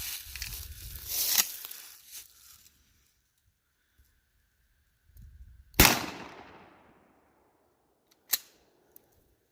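A Mossberg 500 Tactical 12 gauge shotgun firing buckshot booms in two sharp, loud outdoor blasts, each trailing a fading echo, with softer handling rustles and a click between shots.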